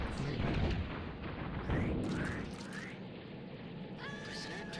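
A missile launch and explosion in the space combat video game Space Pirates and Zombies, with heavy booming blasts and rumbling bursts, some whooshing sweeps, then fading into quieter electronic tones near the end.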